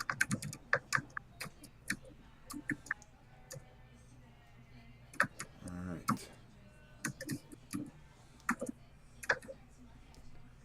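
Bursts of rapid clicking keystrokes on a computer keyboard come close and crisp, pausing briefly then resuming in quick irregular runs, with someone saying a few words in between.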